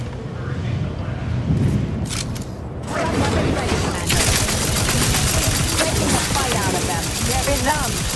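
A new weapon fires in the video game The Outer Worlds 2, with a sharp shot or two followed by a dense, continuous stretch of rattling gunfire and mechanical clatter, mixed with busy game sounds.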